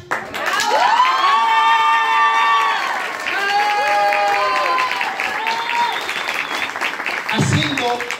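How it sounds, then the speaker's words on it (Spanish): Guests at Omar's party in Tampico Alto, Veracruz applaud together, their clapping mixed with loud shouts and cheering voices from the crowd that hold steady for the whole stretch. "te regalen un fuerte aplauso"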